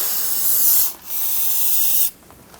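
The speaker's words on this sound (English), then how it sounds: "Using brake parts cleaner, we're going to clean the area for all of our leaks." Two long, loud hissing bursts of brake parts cleaner sprayed from an aerosol can onto a 2000-2007 Ford Focus near the vehicle speed sensor, the first lasting about a second, then a brief pause and a second burst.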